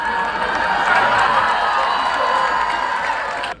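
Husker Nation crowd at a Nebraska football game, a sustained roar of cheering and whooping from a large stadium audience, loud and continuous before cutting off abruptly.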